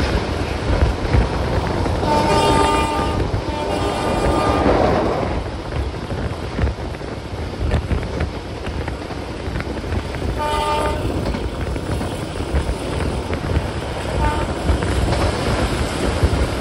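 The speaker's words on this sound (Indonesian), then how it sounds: "perjalanan kereta api" A Malioboro Ekspres train rumbles steadily along the rails toward Yogyakarta, with its horn sounding twice, briefly, over the continuous clatter.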